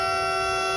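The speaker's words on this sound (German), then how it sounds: "Ich müsste glaube ich auch nicht so viel hupen." A steady, loud, sustained horn blast from a Railjet train in Train Simulator 2022 on the Arlberg line, held as one unbroken tone with no talk.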